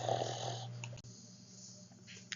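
A sleeping boy snores as a sound effect in an audiobook story, with one long, slow, rasping breath followed by a quieter exhale and a faint snort, soft and alone.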